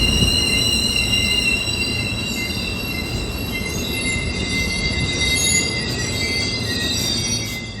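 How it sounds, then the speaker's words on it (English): Caltrain gallery cars rolling toward San Francisco, with loud, sustained high-pitched wheel squeal ringing over a continuous low rumble of the moving train, heard from inside the car. "this is just my last ride on the Caltrain gallery cars."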